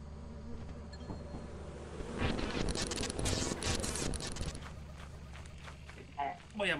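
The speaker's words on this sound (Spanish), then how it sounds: "El ataque de las moscas asesinas." Dense insect buzzing swells in the middle of the clip, a swarm of flies in the video game Lethal Company droning loudly over a low background hum.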